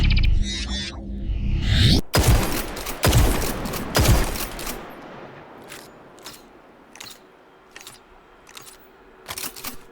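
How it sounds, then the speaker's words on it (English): Destiny 2 shotgun fire comes as a series of loud, close blasts, several heavy booms in the first half followed by sparser, lighter shots and mechanical clicks spaced across the rest. "the shotguns and their gameplay in Destiny 2 deserve high praise"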